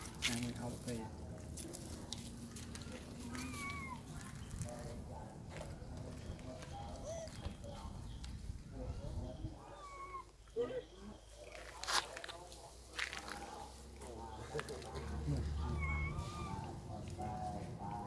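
A cat meows several times at moderate distance, its drawn-out rising and falling cries spread across a quiet scene while voices murmur faintly in the background.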